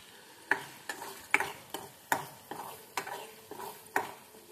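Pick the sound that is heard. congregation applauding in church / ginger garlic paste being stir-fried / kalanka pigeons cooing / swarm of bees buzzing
ginger garlic paste being stir-fried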